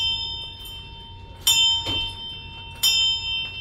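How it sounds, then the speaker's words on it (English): A treatment-completion bell at a hospital is struck sharply a few times, each clang bright and ringing briefly, close by in a quiet room. "Ring this bell 3 times"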